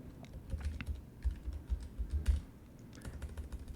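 A name is typed on a computer keyboard in short bursts of close, light key clicks with small pauses between them, and no voice can be heard.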